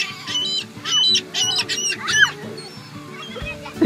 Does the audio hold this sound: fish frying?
no